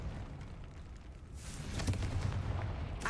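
A fiery Confringo spell blast in Hogwarts Legacy booms as a low, rumbling burst that swells midway and lingers, fairly faint with no voices.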